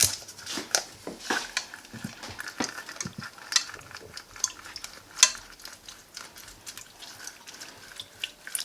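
A lemon pressed and twisted on a citrus reamer makes close, irregular squelching, wet grinding and scraping clicks that come in quick bursts and quieter stretches.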